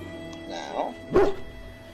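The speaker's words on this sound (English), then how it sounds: "He bounces around you, barking excitedly." A dog in the video game Dragon Age Origins gives two short, excited barks in quick succession, moderately loud against a low background hum.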